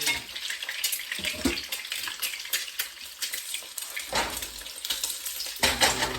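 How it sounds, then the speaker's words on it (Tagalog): Skinless egg tofu fries in a pan until golden brown, with a steady close sizzle and occasional stirring scrapes under a continuous crackle. "tuloy lang natin ang pagprito hanggang sa mag-golden brown siya."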